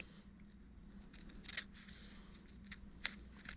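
Small decorative scissors struggling through fabric for a paper-pieced quilt, a few quiet repeated snips and rasps close by, with no talking.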